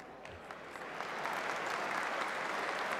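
An arena crowd at a DFS22 fight-night undercard breaks into applause, clapping building up over the first second into a steady, distant wash of many hands.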